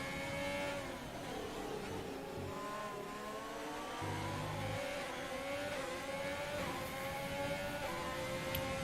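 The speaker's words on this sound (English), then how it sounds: "See all the cars catching some air there around that corner." Race cars in a racing video game at a league event held at Azerbaijan, engines whining and revving continuously as they shift pitch through corners, a steady, loud, layered drone with no pause.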